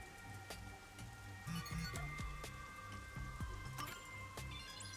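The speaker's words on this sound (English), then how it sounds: "The rain just won't stop, huh?" Rain falls steadily in the video game Master Detective Archives: Rain Code, a constant patter of drops on surfaces with occasional heavier splashes and faint tonal game sounds underneath, with no speech.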